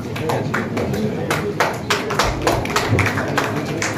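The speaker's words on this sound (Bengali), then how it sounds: "জোরে হাততালি হোক।" Applause from an award ceremony audience, a dense stretch of many hands clapping at steady loudness across the whole moment, with scattered louder claps and a few thuds.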